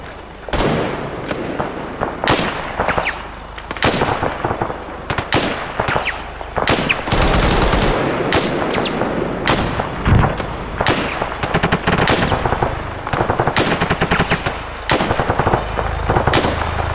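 Intense close-range gunfire in a Rhodesian Bush War era war game, with irregular sharp shots and short machine gun bursts crackling throughout, some loud blasts among them, and no talking.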